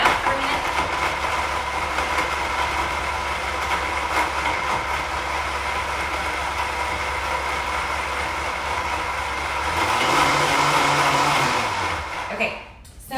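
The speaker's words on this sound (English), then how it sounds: "Okay, I'm gonna turn this blender on, and I don't have my little guy, so I'm just gonna cover it up for a minute." A blender purees shallots and garlic for a champagne vinaigrette. It gives a steady, moderately loud whirring drone, shifts pitch briefly near the end, then cuts off abruptly.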